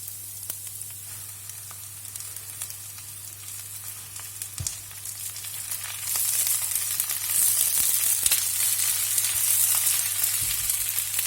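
Fresh spinach frying and sizzling in a hot pan with a golden browned base mixture, a steady hiss that swells louder partway through as the leaves hit the fat, with a few light utensil clicks.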